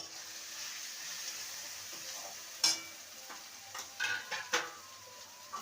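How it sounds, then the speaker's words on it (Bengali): Taro pieces sauté with turmeric and Kashmiri chili powder, a soft steady sizzle broken by a few sharp spoon-against-pan knocks and scrapes toward the end. "আর দিয়ে দেবো কালারের জন্য কাশ্মীরি লঙ্কার গুঁড়ো সমস্ত কিছু কষিয়ে নেবো"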